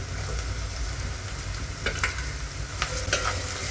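Onion, carrots and beans frying in a pan, a dense steady sizzle with a few light stirring scrapes, close and continuous.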